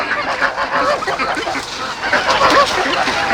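Geese honk repeatedly in a poultry yard, their calls mixed with other fowl such as ducks and chickens, a busy overlapping chorus of nasal honks and squawks at close range.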